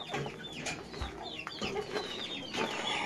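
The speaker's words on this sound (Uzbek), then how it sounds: "Xo'p, yana jo'jalardan." Several young chicks for sale cheep nearby, repeated quick downward-sliding peeps scattered over a few seconds against a soft background murmur.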